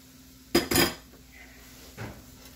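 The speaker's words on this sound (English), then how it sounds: "Stir it up" Spoon scraping and clanking against a pot as flour is stirred into butter, potatoes and soft vegetables for a chowder: two close, loud bursts of metal-on-pot knocking, then a softer clink a moment later.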